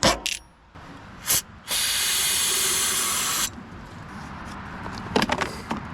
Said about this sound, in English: I'll give it a spray of starting fluid.